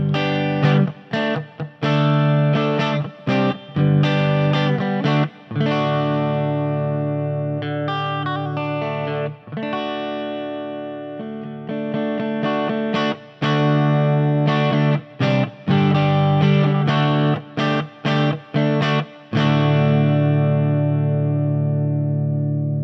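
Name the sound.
electric guitar through Quilter 101 Mini Reverb amp with reverb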